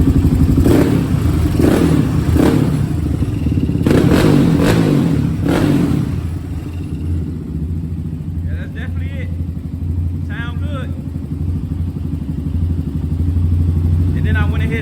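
A Yamaha Raptor 660 ATV engine, recently repaired, idles loudly nearby with a few sharp revs early on, then holds a steady rumbling idle while a person talks over it.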